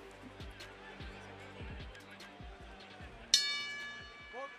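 At a professional boxing bout, Mexico versus Puerto Rico, the ring bell is struck once to start the fight. Its bright metallic clang rings out and decays under ongoing commentary and arena noise.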